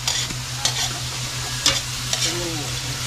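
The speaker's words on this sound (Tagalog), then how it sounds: "Ginisa ang gulay." Vegetables are sautéed in a hot pan for pancit bato, a steady sizzle broken by several sharp scraping and stirring knocks of a utensil against the pan, close up and without speech.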